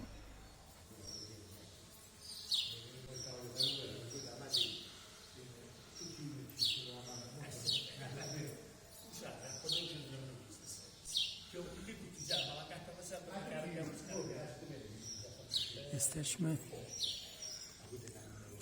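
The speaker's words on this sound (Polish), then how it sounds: "Słychać ptaki, a także dzwonki krów, które tutaj niedaleko się pasą." Birds sing in a valley near a sanctuary while grazing cows nearby ring their bells, giving bright, repeated chirps and soft clinks that come and go over a quiet outdoor background.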